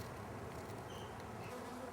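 Honeybees buzzing in a crowded hive, a faint, dense, steady hum of many wings with no voices.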